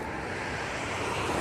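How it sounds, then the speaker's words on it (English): Steady broadband rush of a river flowing beneath a bridge on the Appalachian Trail, continuous and fairly loud, with no voices over it. "Look at this river, though."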